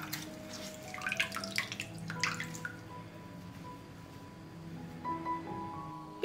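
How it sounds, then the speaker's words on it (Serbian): Water drips and trickles as a cut strip about 10 cm wide is soaked and wrung out; quiet, irregular splashes and drops come in small clusters against a faint steady hum. "Isečenu traku umočit ću u vodu"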